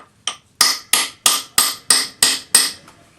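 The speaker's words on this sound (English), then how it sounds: "We're going to hammer the punch into the end grain of a piece of wood." Metal punch being hammered into the end grain of a block of pine, eight sharp ringing strikes in an even rhythm, each decaying quickly, close and loud with no talk.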